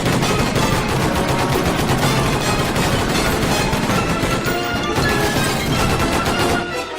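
Rapid, sustained cartoon gunfire as Lois shoots at Stewie in Family Guy: a dense, loud barrage of overlapping shots and crashes that barely lets up for about seven seconds before trailing off.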